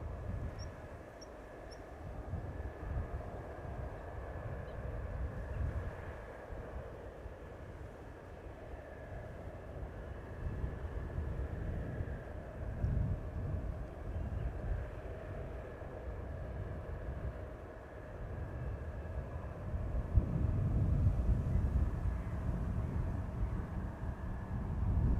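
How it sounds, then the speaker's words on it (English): Wide-body airliners approach Amsterdam Schiphol Airport as a low, steady jet rumble, distant and continuous, swelling slightly louder toward the end. "Wide bodies are approaching."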